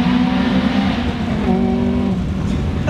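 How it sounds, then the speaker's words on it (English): A Honda Prelude engine drops a gear as the driver shifts down to second, giving a loud, close, continuous engine tone whose pitch steps and wavers for about three seconds. "look, downshift to second."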